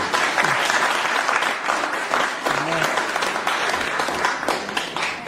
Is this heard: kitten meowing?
no